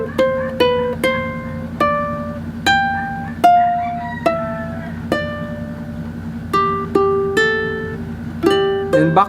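A ukulele picks a fingerstyle phrase: a steady sequence of clear, bright plucked notes and small chords, each ringing briefly before the next, played close and alone.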